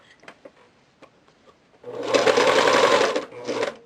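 A sewing machine stitches the elastic casing on a cloth diaper. Faint handling clicks come first, then a loud, close, steady whirring run of about a second and a half, a brief pause, and a short final burst.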